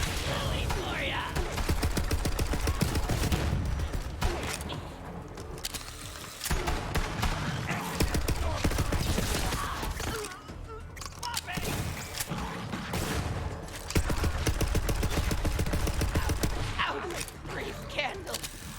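Continuous gunfire in the video game Borderlands 3, a dense, loud barrage of rapid shots with mechanical clatter running almost throughout, with only brief dips in intensity.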